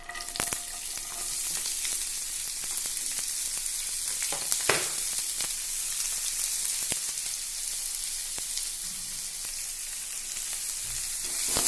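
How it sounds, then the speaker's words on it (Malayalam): Chopped onions and bird's eye chilies fry in a hot pan for a tomato sabji, giving a steady, close sizzle with occasional stirring clicks and scrapes, and no talking. "നമുക്കിതിലേക്ക് കട്ട് ചെയ്ത് വെച്ചിരിക്കുന്ന സവോളയും കാന്താരിയും ഇതിലേക്ക് ഇട്ട് കൊടുക്കാം."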